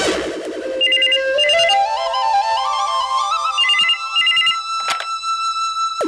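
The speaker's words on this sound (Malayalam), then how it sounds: "ആ ഫോൺ എടുത്തിട്ട് പറയാന്നല്ലേ." An electronic phone ringtone plays a looping, rising melody of bright tones with quick trilling notes, loud and close for about six seconds, with a sharp click near the end.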